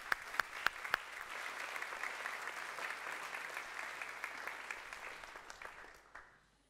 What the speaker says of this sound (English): Please give a warm applause to Natalia Englund och Josef Nkunga.